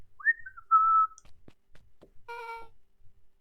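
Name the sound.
character whistling a jaunty tune in video game Beacon Pines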